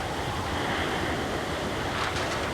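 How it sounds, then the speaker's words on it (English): Storm surge waves pound the coast of Topsail Island during a hurricane, a dense, continuous roar of crashing surf mixed with heavy wind buffeting the microphone. "A deadly storm surge is hammering Topsail Island."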